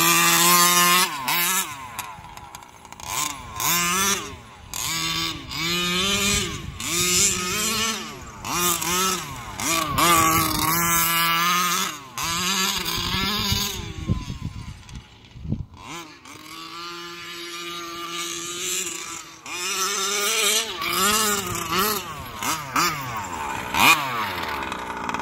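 A Losi 5T RC truck's small gas engine buzzes and revs up and down in a high, raspy whine close by, with short dips between throttle bursts.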